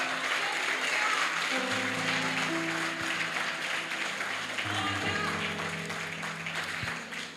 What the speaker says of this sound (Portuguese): Ah, se é para Jesus, pode aplaudir